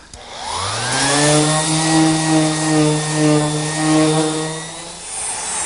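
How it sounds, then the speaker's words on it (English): A small power sander works on wood, giving a steady, loud whine with a stable pitch that holds for several seconds before easing off, with no voices. "And then I'll take my small sander and sand it till it's nice and even and has a very elegant shape"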